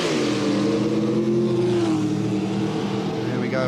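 Drag racing cars at the 1989 Santa Pod World Finals launch up the quarter mile, with a loud sustained engine roar whose pitch slowly climbs and then eases while a commentator talks over it.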